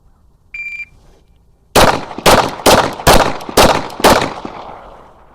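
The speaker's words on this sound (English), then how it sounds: "This one I'm shooting a bit higher" Rifle fire during a timed shooting drill with a new barrel: a short electronic timer beep, then six sharp, loud gunshots in quick, fairly even succession, each ringing out briefly.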